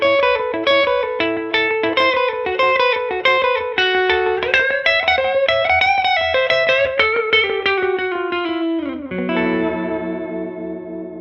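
Electric guitar with effects playing a fast rockabilly blues lick as single notes with no chords, a busy run of bright plucked notes ending on a sustained bend.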